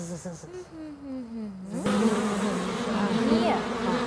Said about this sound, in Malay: Jom sambil kita dengarkan bunyi, bunyi lebah